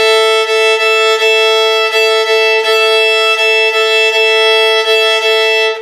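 Violin double stops played in a shuffle rhythm, bowed pairs of notes ringing together in a steady long-short pulse, bright and close, repeating evenly without any voice.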